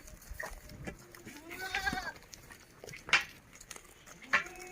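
A pregnant Beetal goat weighing about forty-five kilograms bleats at a goat market in Kasaragod, with a few loud, wavering calls rising over quiet background shuffling and faint voices.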